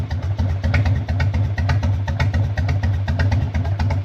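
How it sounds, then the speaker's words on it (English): A Harley-Davidson Evo Heritage 1340 motorcycle engine idles close by with a loud, low, loping rumble of uneven pulses that repeat steadily for a few seconds. "I think it idles fine."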